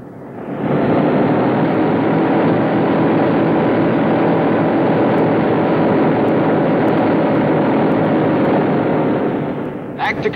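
Boeing B-17 bomber engines running up at high power, a loud, steady, dense roar that holds for about ten seconds and then cuts off abruptly.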